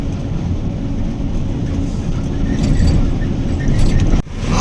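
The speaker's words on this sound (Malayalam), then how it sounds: "2 സൈഡ് അപ്പുറത്തും ഇപ്പുറത്തും വണ്ടികൾ പോയി" Vehicles passing along a forest road on the way toward Shimoga, a loud near rumble of traffic that swells toward the end and then cuts off abruptly, with no talking.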